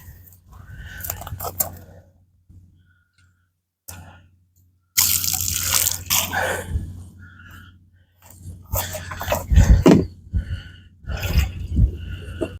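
Pond dye being poured along the edges of a pond, heard as bursts of splashing, trickling liquid broken by short quiet gaps.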